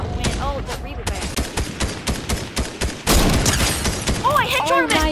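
Repeated heavy sniper shots and bursts of gunfire ring out in a Fortnite match, loud and close, sharp cracks coming in quick succession with a denser volley near the end, while people talk over the action.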